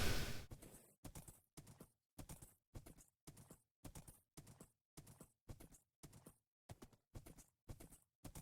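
A horse's hooves clip-clop across desert ground in Minecraft, a steady, evenly spaced series of about fourteen close, crisp thuds with silent gaps between them.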